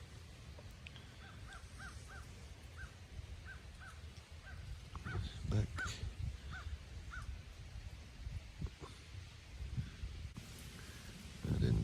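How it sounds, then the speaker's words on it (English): Outdoors, a crow caws repeatedly in short evenly spaced calls at a moderate distance over a low wind-like rumble, while someone speaks briefly and other birds chirp faintly. "Hear a crow."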